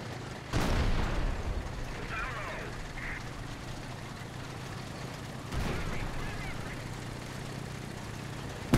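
Gunfire and artillery boom in a Dunkirk 1940 video game event: two heavy blasts about five seconds apart roll out over continuous battle noise, with faint distant calls in between.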